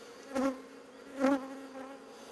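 Two short swells of honeybee buzzing rise and fade close to the microphone around a hive frame being inspected, over a faint, steady insect hum.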